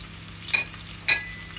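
Cardamom, cinnamon, bay leaf and garam masala fry in oil in a cooking pot, giving two short, soft sizzling bursts as they are stirred over a faint, steady background hiss.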